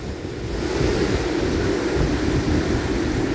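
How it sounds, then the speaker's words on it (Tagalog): Strong wind from Super Typhoon Uwan roars across a mountaintop, a steady, loud broadband rush with gusty buffeting on the microphone, continuous throughout with no voices. "Lakas ang hangin ni Bragyong Uwan."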